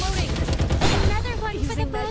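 Bursts of gunfire in the battle-royale shooter Farlight 84, rapid shots layered under game voice lines and music-like tones, fairly loud and continuous across the moment.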